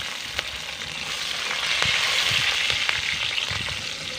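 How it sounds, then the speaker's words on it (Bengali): Green chillies frying in hot oil, a steady close sizzle with scattered sharp pops and crackles throughout, no voices. "এবার লঙ্কাগুলোকে হালকা একটু লাল লাল করে ভেজে নেব।"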